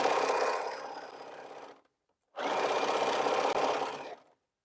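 A sewing machine stitches a T-shirt quilt seam in two close, steady runs of rapid whirring separated by a short silent pause, with no talking.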